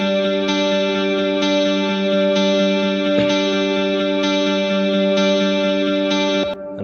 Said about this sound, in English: there's also this guitar that's playing the same arpeggiated pattern